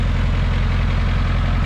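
Tractor engine idling outdoors near a shipping container, a loud steady low rumble with an even pulsing throb and no other sounds over it.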